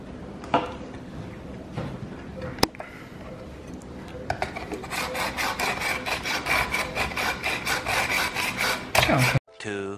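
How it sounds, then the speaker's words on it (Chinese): A kitchen knife is drawn across a diamond sharpening stone: a few scattered scrapes and one sharp click, then a quick run of rhythmic rasping strokes, close and fairly loud. "磨刀"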